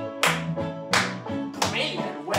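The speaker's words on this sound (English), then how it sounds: "Let's see if we give those hands a big clap" Hand clapping during an online baby ballet class, several distinct sharp claps spaced about a second apart over a piano accompaniment, close and clear.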